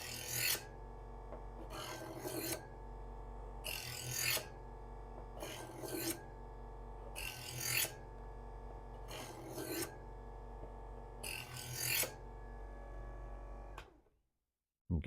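A kitchen knife is drawn through the polishing slot of a multi-stage sharpener, giving seven evenly spaced rasping strokes about every two seconds, close and fairly quiet, then a sudden stop near the end.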